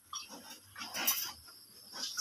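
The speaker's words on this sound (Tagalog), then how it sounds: "Ang lalaki ng baboy na alaga." Farm-raised pigs make faint grunts and squeals at a distance, scattered through low background noise.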